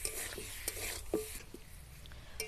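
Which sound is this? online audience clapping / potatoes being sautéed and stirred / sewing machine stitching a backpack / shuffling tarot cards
potatoes being sautéed and stirred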